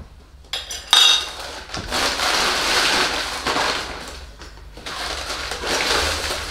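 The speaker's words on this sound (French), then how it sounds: "Maïté, tu continues ça avec une casserole. J'adore la fonte" A heavy cast iron pot is handled and shifted around with metallic scraping and clanking, with a sharp clink near the start, then dense rattling and rubbing that comes in bursts close by.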